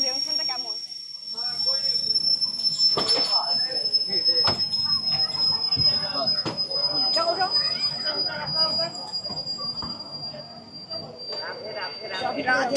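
A passenger train pulls into Krishnanagar City Junction, with steady rumbling, a high sustained wheel squeal, clanks from the railcars, and voices chattering nearby over the noise.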